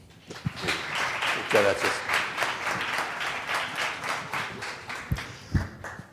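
An audience applauds to welcome a former tourism undersecretary to the stage, moderate rhythmic clapping from a room of people that fades out, with someone speaking briefly near the end.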